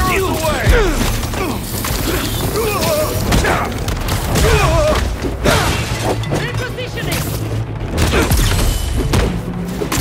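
Gunfire and combat crashes in Marvel's Spider-Man 2 at Coney Island come as dense bursts of shots, thuds and smashes layered over game music, with character voices talking through the action.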